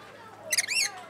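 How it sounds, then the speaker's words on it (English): Birds squawking in a zoo aviary: a short burst of several sharp, rising squawks and chirps close by, over a quiet background. "There are a lot of birds."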